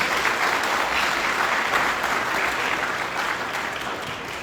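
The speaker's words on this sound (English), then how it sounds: "Let's please give them another warm welcome. Round of applause." Dense, steady applause from a large audience at a 50th anniversary gala for a health organization, filling the room continuously before easing slightly at the end.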